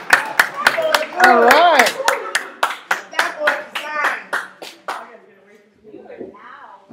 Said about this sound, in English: another round of applause for Mr. Bobby DeLeon, our featured artist